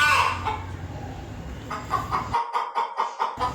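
A hen clucks close by, searching around for her egg: soft scratchy sounds at first, then a run of short, evenly spaced clucks growing clearer toward the end.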